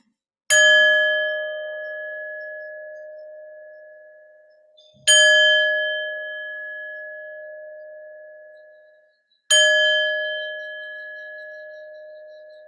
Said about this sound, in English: I move to ring the bells to come to a close in our practice